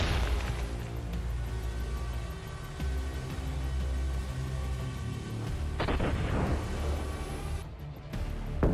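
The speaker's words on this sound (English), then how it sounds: "Here, Ukrainian artillery very accurately fired at the Russian military who were on the offensive" Ukrainian artillery firing at advancing troops, heard as deep booms and bursts rumbling over continuous loud low-frequency noise, with one sharper blast standing out near the end.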